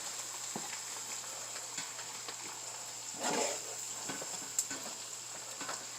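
Ground beef frying in its own grease in a pan, a soft steady sizzle with a constant hum behind it and a few brief stirring clatters.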